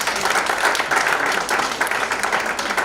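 Conference audience applauding, a steady, loud wash of many hands clapping close up that continues without a break through the whole moment.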